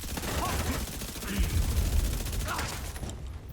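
Gunfire in The Division 2, a steady rattle of automatic shots under in-game radio chatter, loud and continuous with a few louder bursts.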